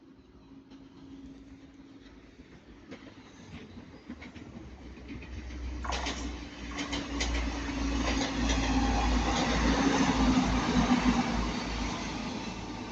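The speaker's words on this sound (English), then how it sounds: "It's coming very fast. And we've got another Transpennine 185 as well." A TransPennine Express Class 185 diesel train approaches at speed and passes, its rumble building steadily from faint to loud with rattling wheel noise and a low engine drone that holds near the end.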